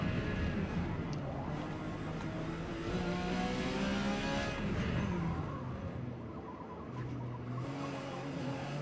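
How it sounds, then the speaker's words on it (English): Porsche 956 race car in Forza Motorsport during qualifying at Homestead Miami, a continuous engine drone rising and falling in pitch through shifts and corners, steady and fairly quiet throughout. "I'll be driving my Porsche 956 and go heading out for qualifying."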